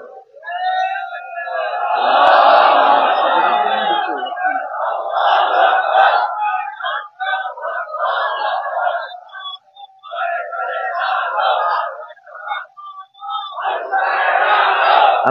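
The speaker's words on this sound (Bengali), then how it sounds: "তাকবীর, তাকবীর, তাকবীর। চলুক না 5 মিনিট তাকবীর" A large crowd at an Islamic religious sermon gathering chants the takbir in loud, repeated surges, each burst of massed voices broken by short pauses and then rising again.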